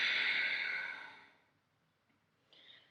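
A single long exhale during a yoga stretch, a soft airy breath that starts strong and fades out over about a second and a half, followed by a faint short breath near the end.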